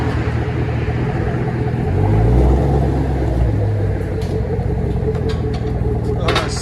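Chevy Camaro 6.2L SS V8 with both mufflers cut off, idling with a loud, steady, lumpy low rumble close by, swelling briefly midway, with no talk over it.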